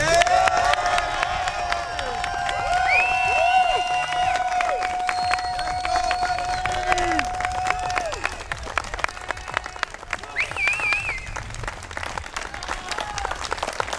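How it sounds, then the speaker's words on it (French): A crowd at a 2021 golf skins match applauds warmly for several seconds, steady clapping mixed with a few cheers and whistles, while a voice speaks over the noise. "on peut prendre au moins une grosse main d'applaudissement pour David."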